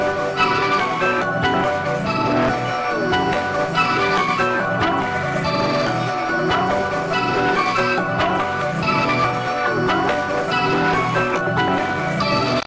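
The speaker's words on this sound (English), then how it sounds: "And we just added one effect, which was distortion cold fire." Beat built from chopped vocal samples run through a Cold Fire distortion effect, a dense, steady, gritty loop of choppy pitched vocal fragments over drums, no talking.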